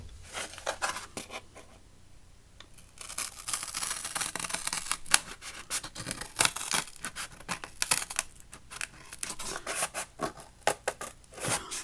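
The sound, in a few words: scissors cutting out paper for journaling card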